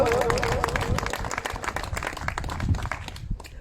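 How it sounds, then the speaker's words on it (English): An audience at an evening tribute event claps for a father, dense mixed applause that begins loud and then thins out, with a voice audible near the start. "Big round of applause for a wonderful father."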